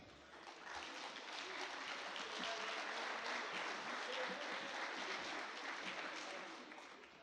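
Audience applause welcoming a speaker to a lecture on police use of force, a sustained steady clapping from a large crowd that swells in and fades out over several seconds, with no voices on top.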